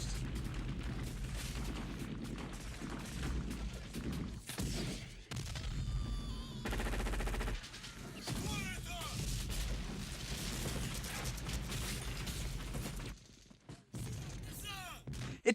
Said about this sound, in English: What follows is typical 80s action scene. Gunfire, explosions